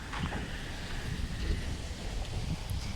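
Steady wind blowing outdoors while gathering reeds, a constant broadband rush with rustling and buffeting against the microphone throughout.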